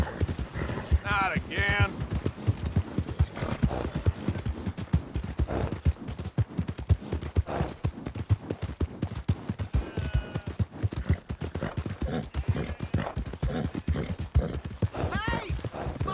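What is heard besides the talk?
horse hooves in the video game Red Dead Redemption 2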